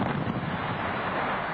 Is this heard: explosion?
yes